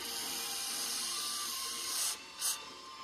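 Cleaner sprayed onto the engine of a 1985 Chevy Camaro IROCZ: a steady faint hiss with two short, distinct spray bursts near the end, no talk.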